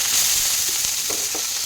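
A spoonful of oil on a hot pan for Mysore dosa gives a steady, hissing sizzle up close, continuous throughout with a few soft scraping touches.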